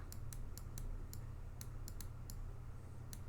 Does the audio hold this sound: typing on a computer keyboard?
yes